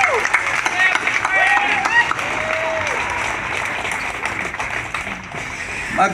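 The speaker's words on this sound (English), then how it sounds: "How about a big round of applause for our town's very own Bluegrass Jamboree Band." A crowd applauds a bluegrass band at a frontier-themed hootenanny at Cedar Point, the clapping steady and moderately loud, with whoops and voices rising over it, tapering slightly toward the end.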